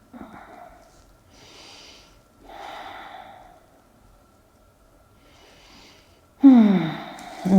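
A person holding a seated yoga twist takes slow, deep breaths, with several soft airy inhales and exhales spaced a couple of seconds apart, ending in a louder, sharper breath with a voiced edge.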